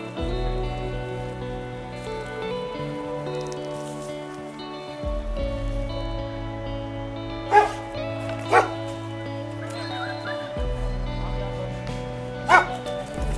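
A stray dog gives a few sharp barks at intervals over a steady tonal background hum.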